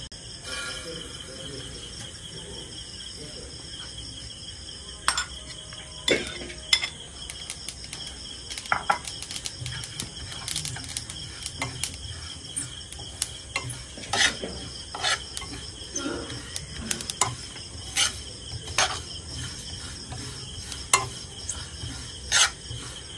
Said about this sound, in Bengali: তিলটা যখন পুটপুট করে ফোটা শুরু হবে, তখন বোঝা যাবে যে তিলটা ভাজা হয়ে গেছে